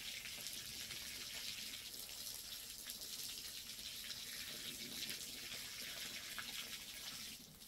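Water runs steadily from a tap or hose while containers are filled for watering garden plants, a continuous hissing splash from start to finish with no voices.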